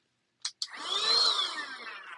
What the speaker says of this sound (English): little cordless vacuum. I love it.